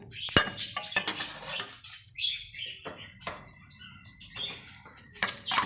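A metal spoon stirs and scrapes vermicelli toasting in a pot, giving sharp clinks and scraping taps spread irregularly through the passage, close and moderately loud, with faint birds chirping in the background.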